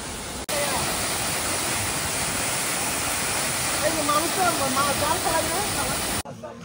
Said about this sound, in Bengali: এই পাশেই থাং কোয়াং পাড়া, থাং কোয়াং ঝর্ণা